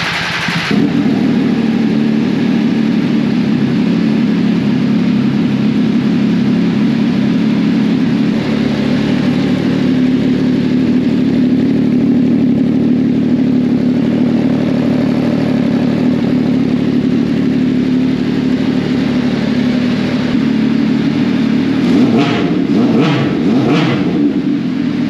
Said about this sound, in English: we'll give you a quick cold start of the motorcycle